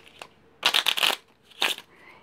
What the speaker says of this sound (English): Let's give him another shuffle.